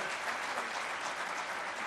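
An audience at a police guard of honour ceremony for children of martyrs in Haripur, Khyber Pakhtunkhwa, claps in a dense, even burst of applause that stays steady and moderately loud, with no other sound over it.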